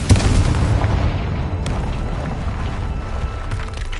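Bombarda and Confringo blasting spells from the Hogwarts Legacy video game, booming explosive bursts with a low rumbling tail, a sharp blast at the start and another partway through, moderately loud with no talk.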